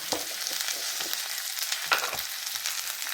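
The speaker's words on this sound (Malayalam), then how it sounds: "ഇനി നമുക്ക് ഇത്തിരി ഇളക്കി കൊടുക്കാം" Okra stir-fry (bhindi thoran) with chili powder sizzles in a pan as a spoon stirs it, a dense steady frying hiss broken by a couple of scrapes, close up with no voices.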